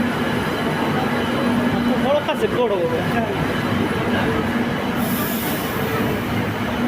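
A Kolkata metro train rumbles along with a constant roar and a brief squeal of wheels on rails, while a person talks over the noise.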